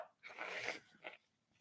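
A stifled fake sneeze that never fully comes out, a short breathy hiss and snort lasting under a second, close to the microphone, followed by a faint second puff of breath.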